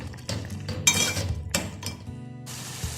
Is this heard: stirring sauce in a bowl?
yes